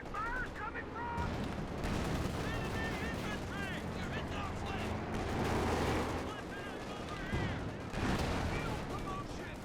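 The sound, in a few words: mortar and gunfire in video game Company of Heroes 2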